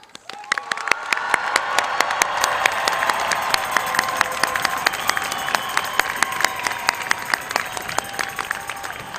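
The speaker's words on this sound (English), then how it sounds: "please give these incredible graduates a round of applause." A graduation audience at a Lake Weir High School Class of 2021 ceremony breaks into sustained applause, dense clapping holding steady for about nine seconds with scattered cheers mixed in, with no speech over it.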